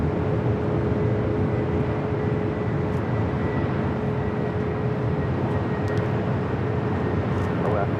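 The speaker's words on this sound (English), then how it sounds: "All right, Zippy number 2 for takeoff here on the north side." An airliner takes off from the north side runway at LAX, a steady, broad jet roar that holds at a constant level throughout, with faint speech over it.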